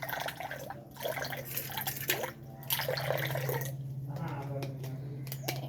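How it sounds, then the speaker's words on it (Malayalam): Water is poured into a hot pan to make tea, giving a trickling, dripping splash, while a person talks over the sound. "നമ്മൾ പാൻ ഇത് ചൂടായി വന്നാൽ കുറച്ച് വെള്ളം ഒഴിക്കണം."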